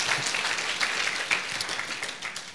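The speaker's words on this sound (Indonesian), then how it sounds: "Berikan tepuk tangan kita untuk Tuhan kita." A church congregation applauds through the whole span, a dense steady wash of many hands clapping at even loudness with no voices over it.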